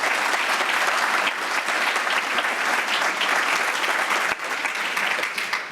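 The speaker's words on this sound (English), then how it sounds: "Let's show our appreciation with a big round of applause for their incredible work during and after the hurricane." Crowd applause at a charity gala for hurricane first responders, a loud, full, continuous round of clapping from a large audience sustained without a break.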